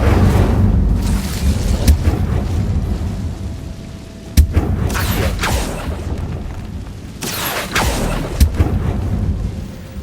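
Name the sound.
Incendiary spell explosion in video game Hogwarts Legacy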